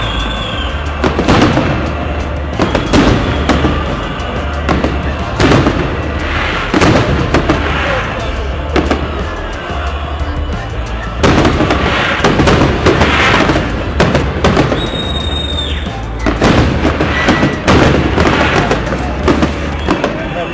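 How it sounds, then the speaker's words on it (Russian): Victory Day fireworks on 9 May, a long run of loud booms and crackling bursts at irregular intervals, with a voice speaking intermittently between the blasts. "смотри на салют"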